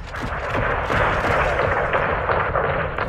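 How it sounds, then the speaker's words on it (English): An airstrike levels a greenhouse in the Modern Warfare II video game campaign, with loud, continuous rumbling blasts and heavy, rolling booms that overlap without a break. "you are cleared hot to level the greenhouse"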